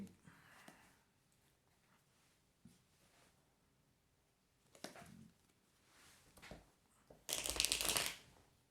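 Tarot cards being shuffled during a card reading: a short, loud riffling burst near the end, after a mostly quiet stretch with faint handling rustles and soft knocks.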